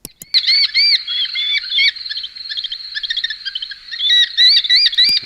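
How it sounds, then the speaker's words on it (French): Falcon call sound effect: loud, close, shrill repeated cries in rapid succession, continuing almost without pause for about five seconds. "Et vous avez le son du faucon qui est sélectionné."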